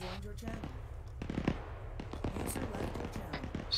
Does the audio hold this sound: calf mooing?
no